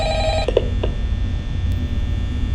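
A phone call plays in the Five Nights at Freddy's video game, its tonal ringing sound cutting off abruptly after about half a second and leaving a low background hum with a few faint clicks.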